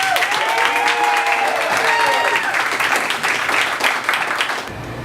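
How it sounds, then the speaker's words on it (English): Sustained audience applause and clapping for performer Stacy Matthews at a birthday celebration, loud and continuous with crowd cheering and whistles mixed in, ending abruptly. "Let's have a big round of applause for Stacy Matthews."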